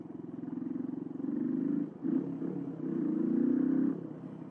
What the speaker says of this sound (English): let's do some tunnel exhaust